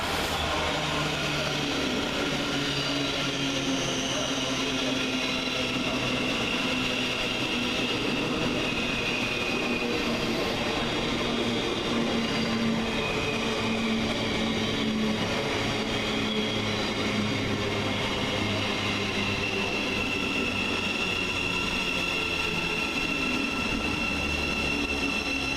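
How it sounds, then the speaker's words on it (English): A Thameslink Class 700 electric train pulls into Luton railway station, a long steady whine and rumble with rising and falling tonal hums, close and continuous throughout. "we see 700-131 arrive with the 1427 Govia Thameslink service from Brighton to Bedford"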